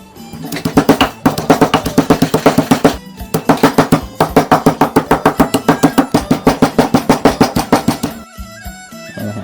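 A pestle pounds salt and fire-roasted dry galangal in a mortar for a Thai galangal chili paste, a steady run of loud, close thumps in quick even rhythm with a few short pauses.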